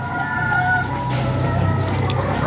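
Hens and roosters on a wide farm where many birds are tethered cluck and call in a busy, overlapping chorus, with a steady hum underneath and no voices.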